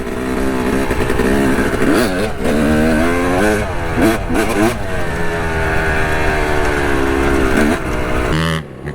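A dirt bike engine revs and drones loudly and close while riding open land trails at Busco Beach, its pitch rising and falling through gear changes, with the sound cutting off at the very end.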